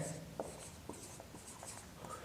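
Pen or chalk writing out a math question by hand, a string of short scratchy strokes with small pauses, close and quiet, with no talking over it.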